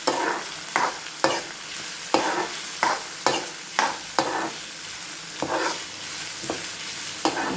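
Onions and garlic fry in a pan for an onion tomato thokku, their steady sizzle broken by a series of sharp, regular scraping strokes of a spatula roughly every half second to one second.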